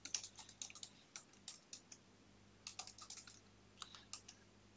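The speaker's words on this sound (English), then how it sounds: "we will then type again our name" Typing on a computer keyboard, a quiet, irregular run of light key clicks at close range over a faint steady hum.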